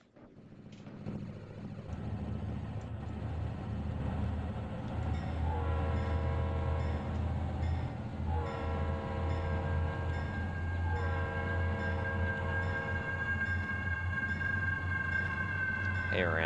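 A Reading & Northern locomotive throttling up in the Trainz video game, a deep, steady diesel rumble that builds and holds, with a multi-tone train horn sounding in several long blasts over it.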